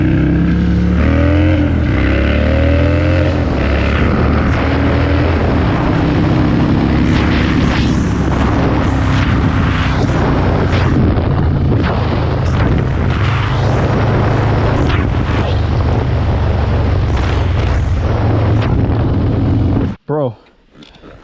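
An Indian Chief motorcycle fitted with Lloydz 585 cams roars under hard acceleration, its loud engine and rushing wind filling the clip before cutting off abruptly near the end, with a rider's voice mixed in.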